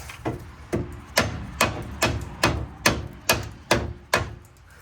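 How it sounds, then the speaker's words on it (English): A bolt on a Chevrolet Silverado being lowered is struck by a hammer about ten times, at a steady rhythm of sharp, close metallic blows with brief ringing decay between strikes and no speech. "I can almost pound this bolt in"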